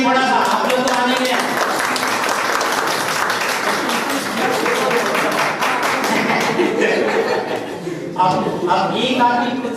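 An audience at a teachers' training workshop claps loudly and continuously, a dense crackling roll of hands with people talking and a few chuckles mixed in, easing slightly toward the end.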